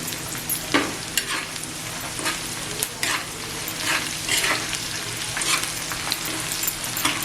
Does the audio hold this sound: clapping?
no